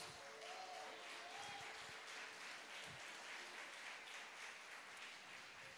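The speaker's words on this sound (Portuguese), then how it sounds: "Aplauda mais forte, irmãos." A church congregation applauds during a sermon, heard as a faint, steady wash of distant clapping that continues throughout.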